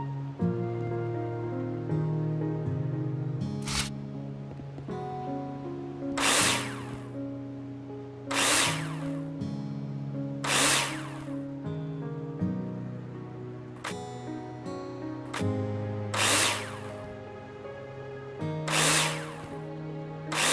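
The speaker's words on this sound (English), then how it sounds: "Take your drill out and screw them in." A power drill in a video game drives screws into plasterboard in repeated short whirring bursts, each followed by a brief tonal chime, spaced every couple of seconds over steady background game music.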